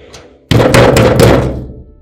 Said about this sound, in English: Cynthia, Cynthia, please open this door now.